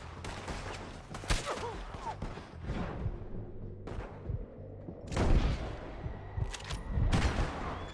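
Shootout in Red Dead Redemption 2 with sharp, loud gunshots cracking in irregular bursts and clusters, some close and booming, others lighter, amid chaotic battle noise and shouting voices.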